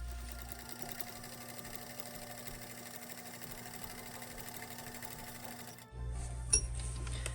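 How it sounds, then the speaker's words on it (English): A sewing machine runs steadily for about six seconds, top stitching along the sides of a fabric basket. The motor stops abruptly and a few soft handling clicks follow. "you're gonna go and top stitch all 4 sides."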